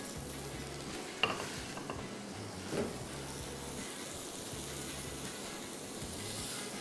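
Surmai fish laid over onions on a hot sizzling platter, a faint steady hiss with a few soft clinks and scrapes, fairly quiet and distant.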